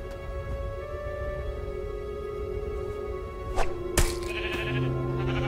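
A sheep in the Minecraft Story Mode game lets out a couple of short bleats near the end, heard over a droning background score.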